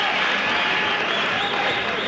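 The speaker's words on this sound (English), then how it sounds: "Generous round of applause from the fans here." Boxing fans applaud at ringside after the fourth round of a bout, a steady wash of clapping and crowd noise filling the arena without pause.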